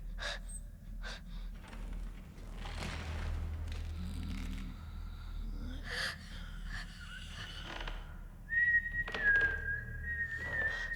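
A man whistles a thin, sustained tone in a horror film scene, entering late and holding steady over quiet, breathy ambience and low rumble.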